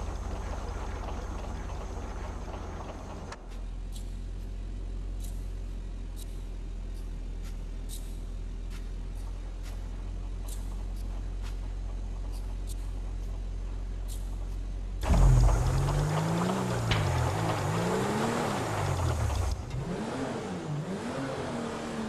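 A car in Grand Theft Auto V hums along at a low, steady engine drone, then the engine roars louder, its revs rising and falling repeatedly as it accelerates.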